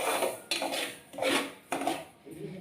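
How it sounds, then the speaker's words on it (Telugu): A metal utensil scrapes and clinks against a pan as semolina is roasted and stirred, four rhythmic scraping strokes at close range with no voices. "ఈ రవ్వ ఇలా ఈ కలర్ వచ్చేదాకా వేపుకోవాలి, లైట్ బ్రౌన్ కలర్ వచ్చేదాకా వేపుకోవాలి."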